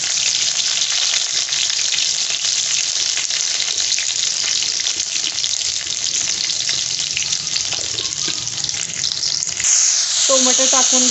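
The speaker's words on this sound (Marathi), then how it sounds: "आता याच्यामध्ये लसूण टाकून घ्यायचा." Garlic hits hot oil already crackling with cumin and mustard seeds over a high gas flame while tempering for a ridge gourd and peanut dish: a loud, close, continuous sizzle that briefly intensifies near the end.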